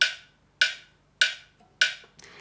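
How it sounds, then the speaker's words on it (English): A phone metronome app set to 100 beats per minute gives four sharp, evenly spaced clicks, each decaying quickly, close and alone. "I've got an app on my phone and I've got it set to 100 beats per minute"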